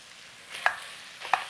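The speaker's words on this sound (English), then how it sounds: "got a pound of ground beef that we're gonna go into the pot now" A pound of ground beef sizzles softly in a pot while a utensil breaks it up, two distinct scraping taps against the pot over a steady low frying hiss.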